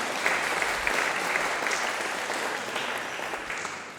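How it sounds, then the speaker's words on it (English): A conference audience claps in sustained applause, a dense, even patter that holds steady and then tapers slightly toward the end, with no talking over it. "Yeah, that's an applause, absolutely."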